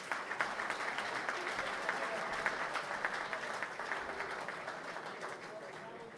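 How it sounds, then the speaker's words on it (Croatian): Audience clapping for an accordion trio at an accordion players' gathering in Županja, a dense sustained round of applause that runs steadily throughout and slowly thins toward the end. "Pozdravite ih velikim pljeskom."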